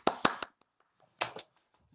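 One person clapping hands on a Zoom call at a scientific meeting: a close, dry group of three sharp claps, a pause, then two more, with near silence between.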